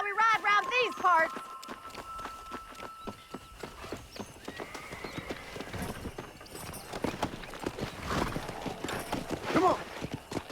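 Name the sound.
horse galloping in Red Dead Redemption video game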